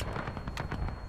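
Rapid bursts of musket gunfire in the American Civil War game War of Rights, several sharp shots in quick succession, steady and moderately loud with no talking.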